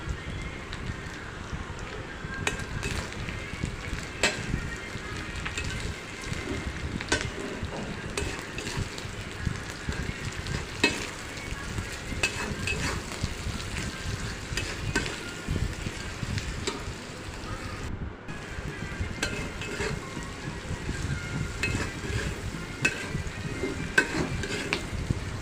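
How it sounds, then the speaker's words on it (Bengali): Dried loitta (Bombay duck) fish fries in a pan with a steady sizzle while a utensil scrapes and stirs repeatedly, close and continuous with no talking. "দেখতে পাচ্ছেন ভাজাটা প্রায় হয়ে আসছে।"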